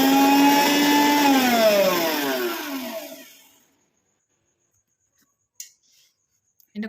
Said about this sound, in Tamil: இது எல்லாத்தையுமே நல்லா நைஸாக அரைச்சிட்டு வந்துடலாம்